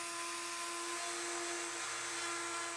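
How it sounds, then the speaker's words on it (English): A power router cuts a roundover along the edge of a wooden picnic table board, giving a steady high-pitched whine that holds constant throughout. "Then I'll route a round over on the edge to soften the corner a little."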